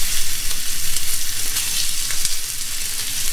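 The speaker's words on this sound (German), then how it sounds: "Und das werden wir uns jetzt einfach kurz anbraten." Chicken strips for curry sear in a hot pan, giving a loud, close, continuous sizzle and crackle with a gently pulsing rhythm, heard alone without talk.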